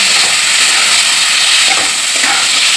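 Water poured into a hot pan of spiced potatoes, giving a loud, steady hiss and sizzle that fills the whole short stretch, close by and without voices.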